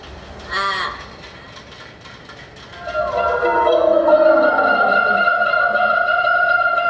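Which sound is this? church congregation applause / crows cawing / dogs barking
crows cawing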